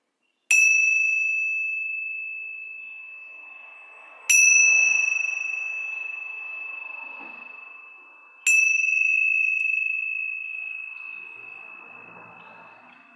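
A single bell rings three times at slow, even intervals, each clear tone lingering and fading gently into quiet.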